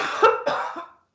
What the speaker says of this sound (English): coughing your lung out